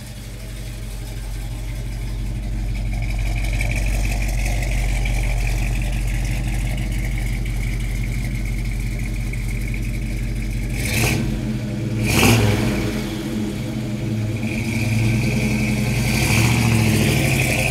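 A 1970 Chevrolet Chevelle muscle car engine idles with a steady, loud, deep rumble, then revs up sharply twice and again near the end, with no talking.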